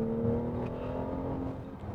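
BMW M760Li with a 6.6-litre V12 driving at night, a smooth, steady, deep engine hum with a low harmonic drone, heard from inside the cabin, continuous and fairly quiet, with no talking.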